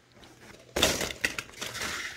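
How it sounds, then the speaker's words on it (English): A sliding glass door leading to the backyard of a house in Merced rolls open, a rough rumbling scrape with a clinking jolt, close and moderately loud, with no talk. "There goes that sliding glass door that leads to the outside."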